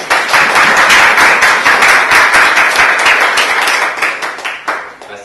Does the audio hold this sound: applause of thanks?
yes